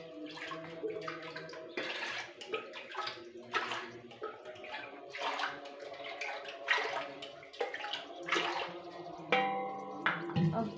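Water poured from a tap into a pot for making tea, a close splashing gurgle whose pitch rises as the vessel fills, with clattering and a brief higher ring near the end.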